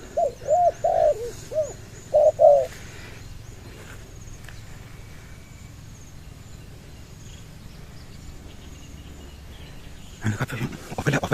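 A single dove coos loudly and close by in a short series of rounded notes that fall into a quick rhythmic phrase, followed by a long quiet stretch with faint rustling outdoors.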